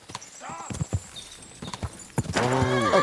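A horse in Kingdom Come Deliverance 2 clip-clops with a few sharp hoofbeats, then lets out a loud, close whinny near the end, with a voice present.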